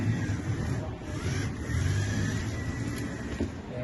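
Small electric motors of a microcontroller-driven toy car whir steadily nearby, a continuous buzzing drone that rises and dips slightly as it drives, with no voices.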